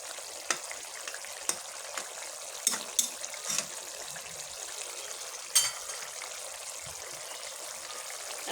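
Small river fish and potatoes cook in a pan with a low, even bubbling sizzle, broken by a few faint clicks and taps, and no voices.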